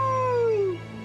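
A cartoon wolf lets out a single short howl that glides downward in pitch and fades after under a second, heard clearly over a faint low hum.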